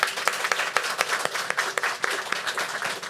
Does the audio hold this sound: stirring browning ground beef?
no